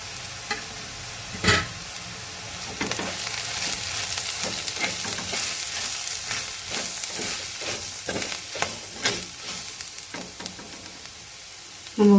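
Green chillies and garlic frying with spices in a pan for a Bangada fish curry, a soft continuous sizzle broken by scattered stirring scrapes and clinks.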